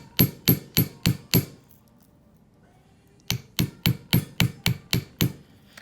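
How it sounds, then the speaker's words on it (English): Sharp metallic ball peen hammer strikes on aluminum coil for a bracelet on a bench block, a quick run of five blows, a pause, then about eight more in steady rhythm, close and loud. "So you only hammer on one side"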